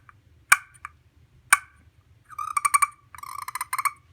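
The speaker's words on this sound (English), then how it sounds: "a little striker that you just pull across the surface, and you make little clucks" Two sharp, separate clucks come from a striker pulled across the anodized aluminum surface of a mini wild turkey tree call. Two quick bursts of rapid, rattling purrs follow, close up with no talk.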